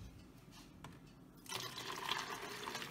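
An egg mixture for low-carb Christmas treats pours through a strainer, a soft steady liquid rush that begins halfway through after a quieter stretch, close and faint.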